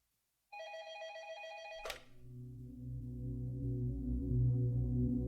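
An old-style telephone bell rings in a short burst, then cuts off into a low droning hum that swells slightly, heard alone without talk.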